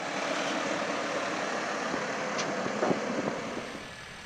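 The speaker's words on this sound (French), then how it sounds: "il est fait appel à un nouveau tracteur Valtra G135" A Valtra G135 tractor engine runs steadily at close range, a dense continuous rumble with a few faint knocks and clicks, easing slightly at the end; no speech.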